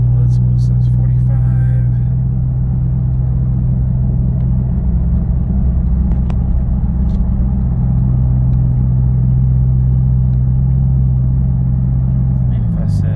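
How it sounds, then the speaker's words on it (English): Steady engine and exhaust drone from a 2012 Ford Fusion 2.5L with a Magnaflow 10416 resonator, cruising at about 45 mph as heard from inside the car, a constant low hum with road noise throughout. "this isn't really a muffler, it's just a resonator more so than anything else"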